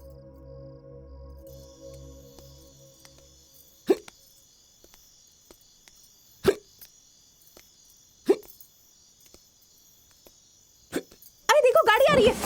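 Hiccups in a scene from a Hindi-dubbed South Indian romantic action film: four or five sharp, isolated hiccups spaced a couple of seconds apart over quiet background chirping, then a voice starts speaking at the end.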